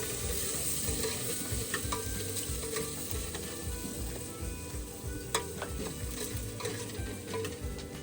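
Dal cooks for the day's meal in a village ashram kitchen, a continuous gentle sizzle and bubbling with occasional stirring clinks and scrapes, close and steady with no talk.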